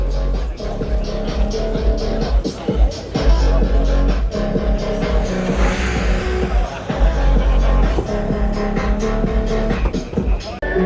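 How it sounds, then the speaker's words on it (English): A Peugeot 206 at a car show revs hard, its loud droning exhaust rising and falling in repeated pulses amid crowd noise. "all that noise is coming out of that Peugeot 206"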